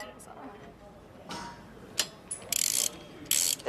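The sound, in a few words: bolts being tightened to set torque on supercar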